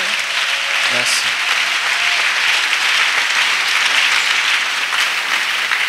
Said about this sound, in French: Let us clap together.